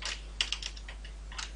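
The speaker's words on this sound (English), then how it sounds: "I type" Quick bursts of keystrokes on a computer keyboard, a short flurry of close clicks followed by a pause and a few more taps, quiet with no voices.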